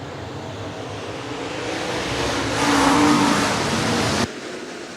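Tri-State Late Model race cars roar around the clay oval at Clay County Speedway during a county fair, a loud rising engine wash that swells as the field passes, then cuts off sharply.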